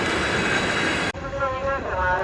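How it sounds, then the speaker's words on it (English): A Soviet-style passenger train on the Trans-Mongolian line between China and Mongolia pulls into a station: a loud, steady rolling rumble, then an abrupt shift to thinner wheel and brake squeals with metallic ringing tones. "our train has arrived"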